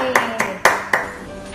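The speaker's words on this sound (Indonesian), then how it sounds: "Kita tepuk tangan dulu buat Tuhan Yesus ya" Children in an Easter Sunday school class clap together in four sharp, evenly spaced unison claps, close and clear, with the last fading into a quiet room.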